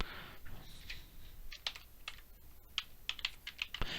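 Rapid keystrokes on a computer keyboard as a password is entered, a quiet, close run of uneven clicks with brief pauses and no talk.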